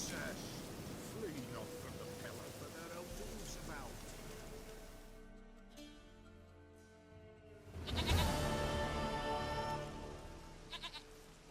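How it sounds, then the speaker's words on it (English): Goat bleating in The Witcher 3 video game; several wavering bleats over rain and ambient game sound, moderately close, with a louder cry late on. "goat of mine, dearest, sweetest goat."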